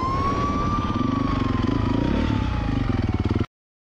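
A police car siren wails in a slow falling sweep over the rumble of a fast-moving engine, then everything cuts off abruptly.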